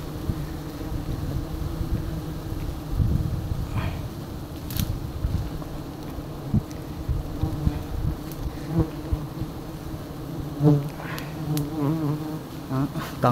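Wild bees swarm and hum at roadside nests being harvested: a dense, continuous buzzing, close and loud, with occasional knocks and handling noises.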